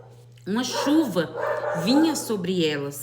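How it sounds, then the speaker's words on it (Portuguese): Dogs bark and yip several times in the background, close but softer than someone speaking over them throughout. "perdão pelos meus cachorros"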